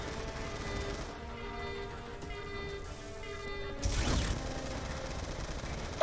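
Gunfire in Call of Duty: Black Ops II, with a steady background of shots and mechanical game sounds, then a louder crashing burst of fire near the end, heard without talk.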